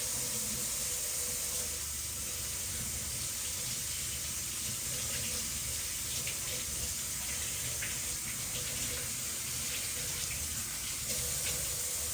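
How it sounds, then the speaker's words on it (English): Steady hiss of water running from a tap into a sink as soap is rinsed off hands, continuous and fairly close with no talking. "And then I'm gonna wash the soap off."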